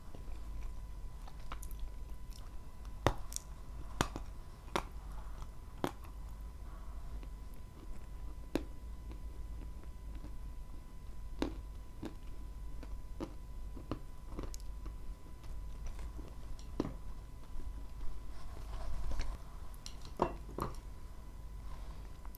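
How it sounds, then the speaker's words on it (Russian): Chewing and biting on pieces of Azov blue and gray clay, heard close up as a steady series of sharp crunchy bites and softer squishy chews spread irregularly through the clip, with no talking. "Вот ее хочется жевать и жевать и жевать."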